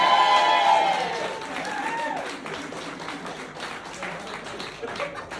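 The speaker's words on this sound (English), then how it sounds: "Can everyone on the right give me a big round of applause," Audience on the right side of a comedy night crowd at a rugby club applauding, a brief dense burst of clapping and cheering that fades quickly into scattered claps under a speaking voice.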